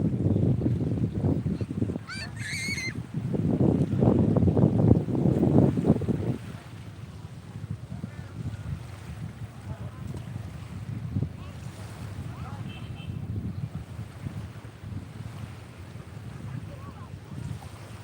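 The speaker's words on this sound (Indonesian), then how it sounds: "ini pagi-pagi di pantai nih" Morning at a beach at Sebalang, South Lampung, with surf washing in and wind buffeting the microphone, louder early on then settling into a steady wash, with brief voices near the start.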